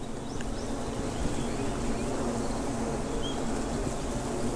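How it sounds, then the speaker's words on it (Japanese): Many carpenter bees and bumblebees gather at flowers in a park, their wings making a steady, low droning hum that fills the whole stretch outdoors. "最初このうなる音が何なのかなと思ったんだけど、どうやら蜂の羽音が集ま"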